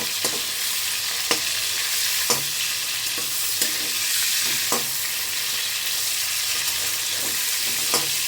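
Giant freshwater prawns sizzle loudly in a hot pan while being turned, a constant bright frying hiss punctuated by regular crisp clicks and scrapes of the spatula, with no talking.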